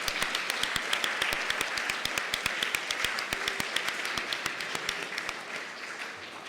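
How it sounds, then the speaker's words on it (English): A small audience applauds at an academic conference, the individual claps crisp and distinct in a fairly rhythmic patter that continues for several seconds and then thins out and stops. "So a big round of applause to Carla for the great."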